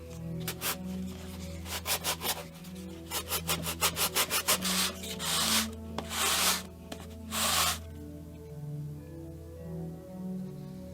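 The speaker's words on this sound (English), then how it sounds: "Went and sanded these." Costume pieces for a Legend of Zelda Fierce Deity Link outfit are sanded by hand in bursts of quick back-and-forth strokes, some short and rapid, others longer and sustained, close and fairly loud over a steady background hum.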